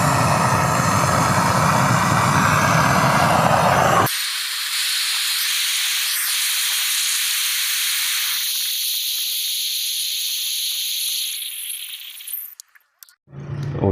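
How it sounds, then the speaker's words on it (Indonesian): A gas torch fed from a 3 kg LPG cylinder welds a refrigerator pipe, giving a loud, steady close hiss that shifts in tone partway and then cuts off abruptly near the end. "usahakan untuk pengelasan serapi mungkin, jadi biar nanti tidak bocor"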